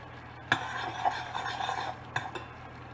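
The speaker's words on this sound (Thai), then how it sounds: "คนทุกอย่างให้ละลายดีแล้วก็รอจนกระทั่งส่วนผสมเดือดนะคะ" A spoon stirs a sauce mixture in a pot over medium heat, scraping and clinking against the metal close by, with a couple of sharper knocks over a low steady hum.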